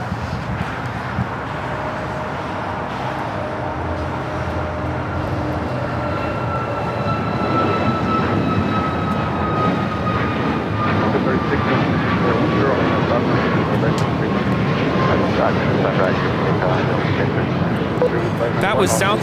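A Southwest Airlines Boeing 737 MAX 8 takeoff at LAX: jet engine roar building and growing louder partway through, with rising and falling whining tones and a sustained rumble. Faint voices can be heard at the start.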